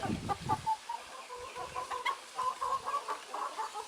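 Backyard poultry hens cluck softly and repeatedly nearby, a gentle murmuring flock with a few louder notes at the start.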